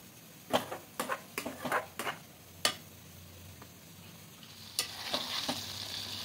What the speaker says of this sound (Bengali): এবার এখানে ডিমগুলো দিয়ে দেব, আর কয়েকটা চেরা কাঁচা লঙ্কা দিয়ে দেব।